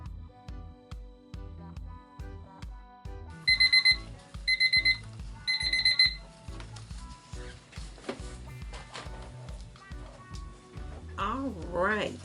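A kitchen timer alarm beeps in three sharp clustered bursts, set while resin is mixed for crafting, sounding loud and near over a steady rhythmic background beat.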